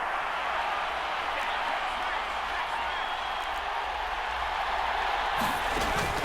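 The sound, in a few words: stadium crowd cheering in Madden NFL 24 video game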